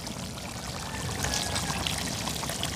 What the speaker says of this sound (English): So I'm going with a little more water.